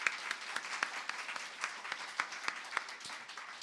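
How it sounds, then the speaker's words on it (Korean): Applause at a parenting seminar for parents of teenagers, with a medium-sized audience giving a continuous patter of claps and distinct sharp individual slaps standing out at a steady pace. "우리 감사의 박수를 드리도록 하겠습니다"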